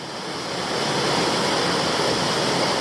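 A waterfall pours in a loud, steady roar, a broad continuous wash of sound that swells slightly at the start and then holds.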